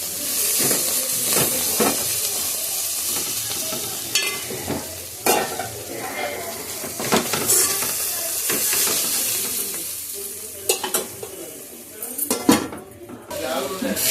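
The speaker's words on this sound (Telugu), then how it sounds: "కూర అయితే మంచిగా మగ్గుతుంది, ఫ్రై అవుతుంది" Curry frying in a pan with sizzling under repeated clanks and scrapes of a utensil against the pan, close and busy, with a voice briefly heard in the background.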